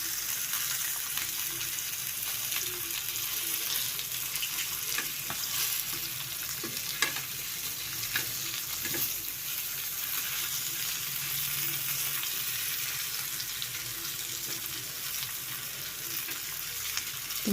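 Coated fish frying on a tawa gives a continuous, even hiss and crackle, close and steady for the whole stretch, with faint occasional ticks and no speech.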